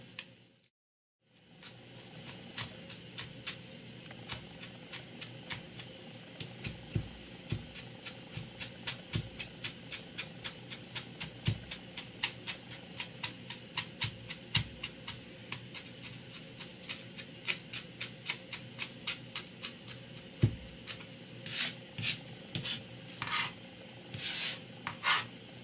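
Fresh herbs chopped with a knife on a board outdoors, a long run of rapid, fairly faint taps and scrapes, with several sharper knocks and a denser burst near the end, no voices.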